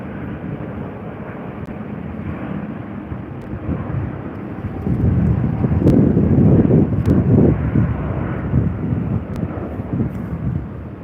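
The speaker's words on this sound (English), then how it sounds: "Had an engine start up of a 737, I think." A Boeing 737 jet engine spins up with a broad, rumbling roar amid wind noise, building steadily and staying loud for several seconds at an airport.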